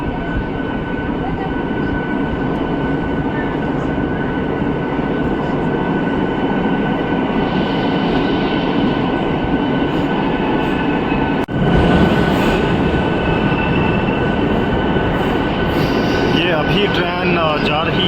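A passenger train on the USBRL line runs from Khari toward Sangaldan through Tunnel 50 in the Jammu mountains, a loud, continuous roar of wheels and carriages with faint high squeals, heard alone without talk.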